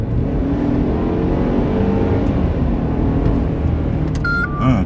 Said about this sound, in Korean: 이 경쾌한 엔진 사운드가